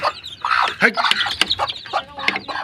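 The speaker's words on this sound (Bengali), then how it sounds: "সেই মুরগিগুলো দেখুন এগুলোর বয়স প্রায় বিশ দিন হয়ে গেছে" Domestic chickens about twenty days old cluck and chirp in a busy, close cluster of short overlapping calls with no pause.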